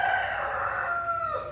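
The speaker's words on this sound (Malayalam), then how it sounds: "രാവിലെ തൊട്ട് ഈ പൂവന്മാർക്ക് ഒരു പണിയില്ല. ചുമ്മാ എപ്പോഴും കൂവിച്ച." Roosters crow at a Kerala home in the morning, one long drawn-out crow carrying loud and steady across the whole moment with no talk over it.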